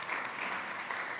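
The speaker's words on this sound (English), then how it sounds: "Round of applause." A crowd claps continuously for panel guests at a food event, a dense, moderately distant patter of applause with no pauses over its brief length.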